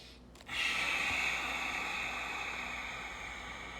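A slow, steady exhale pushed through a constricted throat with the mouth closed, a close, breathy hiss that starts abruptly and holds for several seconds, fading slightly toward the end, with no talking.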